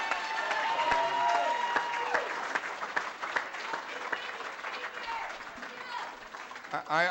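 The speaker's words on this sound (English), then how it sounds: "Give him a big round of applause." An audience at a rock show applauds and cheers for a performer, a sustained wash of clapping with shouts and whoops, loud at first then slowly thinning.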